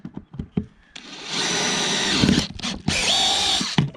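Close, loud power drill runs steadily for over a second on a boat while fitting an inner forestay, stops briefly, then drills again; a few clicks and knocks come before it starts.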